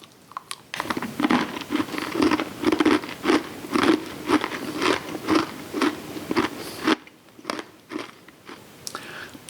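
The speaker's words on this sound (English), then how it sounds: "It's got that great brittle crunch, but the baking soda keeps it from being a tooth breaker." Someone bites into chocolate peanut butter brittle, giving a run of close, crisp crunches and chewing for several seconds, with a quiet voice briefly at the end.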